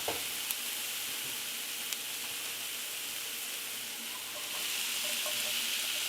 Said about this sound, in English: Either which way, that much garlic. Cook this for a few seconds.